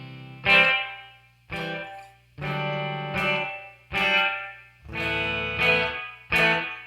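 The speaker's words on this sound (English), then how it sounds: "reverb sounds like this." Distorted electric guitar through a Soldano SLO Super Lead Overdrive pedal with reverb, playing about eight separate stabbed chords whose tails decay into a reverberant wash, loud and close.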